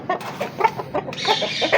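A rooster in a small backyard bird setup gives a quick series of short, loud clucks, close by and with no talk over it.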